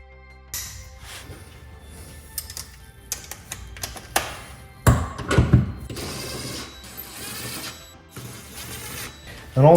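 A ratchet turns 15 mm bolts on a Porsche Boxster engine mount, giving close, rapid mechanical clicking in short bursts with pauses between them, plus a few louder metallic knocks and clanks.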